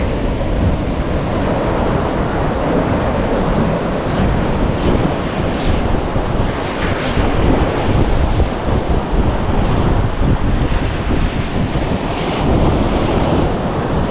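Steady, loud wind rushing across the microphone by the seashore, with the constant wash of surf underneath and no voices.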